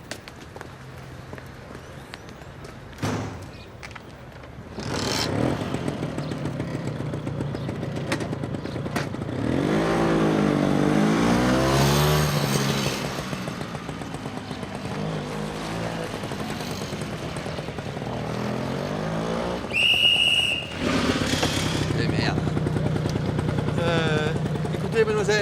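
A motorbike engine runs steadily in a public garden, a continuous mid-level drone that swells louder partway through, with people talking over it.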